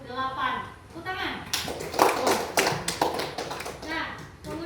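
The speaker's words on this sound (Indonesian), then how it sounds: "Tepuk tangan." Students in a classroom clap in a burst of applause for about three seconds, with children's voices talking before and after.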